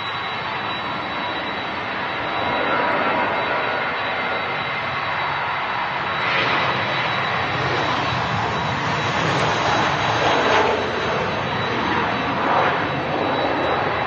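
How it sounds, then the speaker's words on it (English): A Boeing 767 with CF6 jet engines at Manchester Airport gives a loud, steady jet roar that swells slightly and holds for the whole stretch. "Lovely sound of the CF6 engines on the 2E767."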